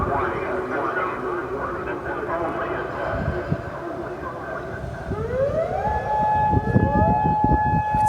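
A tornado siren wails across the Iowa State campus, a steady loud tone that rises into a rising sweep partway through, heard alongside crowd noise and voices nearby.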